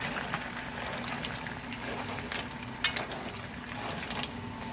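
Seafood such as clams cooking in a pan for seafood pasta, giving a soft, steady sizzle and bubbling with faint stirring scrapes and one sharp clink, fairly quiet and close.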